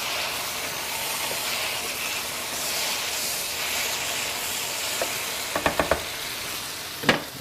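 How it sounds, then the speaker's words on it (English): Food sizzles steadily in a pan with the lid off, a constant frying hiss broken by a few quick scraping stirs and clinks of the utensil near the end. "So what we're going to do is take that lid off for a bit. Just give this a stir."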